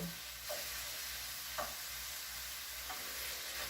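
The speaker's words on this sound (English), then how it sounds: "We're going to saute this now for 3 or 4 minutes until they're very soft." Softening ingredients sauté in a pan with lemon juice, a faint, steady sizzle broken by a few soft scrapes as the food is stirred, with no voices.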